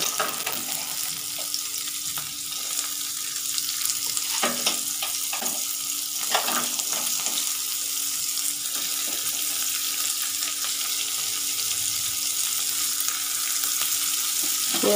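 Food frying in hot oil in a home kitchen, a steady loud sizzle and crackle that runs on without a break, with occasional stirring clinks over it.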